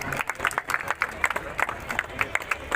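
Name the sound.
audience applauding loudly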